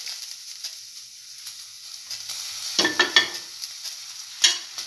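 Tomato pieces hit a hot pan for an onion coconut tamarind dip, bursting into a loud, close sizzle with sharp crackles and spoon scrapes over a steady hiss.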